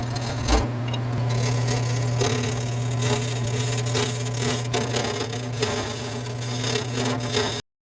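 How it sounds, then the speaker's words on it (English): A wooden clock base spins on a lathe while being turned and sanded, making a steady close whir with a low motor hum and a rough scraping rub. The sound stops abruptly at the end. "I'm only turning the outside."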